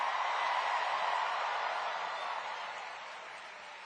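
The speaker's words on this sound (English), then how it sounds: "Can we first hear a round of applause for our incredible MC," A large crowd at an evening political rally in New York applauds the MC, a steady wash of clapping and cheering that stays dense and gradually fades over a few seconds.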